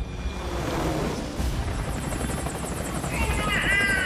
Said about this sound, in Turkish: İşte Coldman, Paz ve Strangelove o helikopterin içindeler